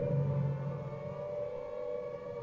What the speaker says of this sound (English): At the moment is the sound of the air raid siren.